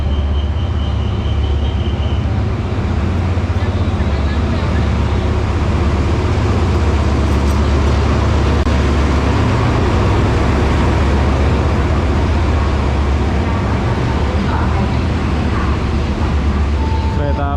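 Bangkok-bound train arriving at Hat Yai station in Thailand, a loud, steady rumbling roar that fills the whole stretch without letup.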